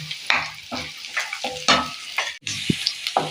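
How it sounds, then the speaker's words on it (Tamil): Onions with ground mint paste and curry leaves sautéing in a pan: a steady close sizzle broken by repeated stirring scrapes and clinks, loud and without talk. "இதெல்லாம் கொஞ்சம் லேசாக வதங்கி வரட்டும்"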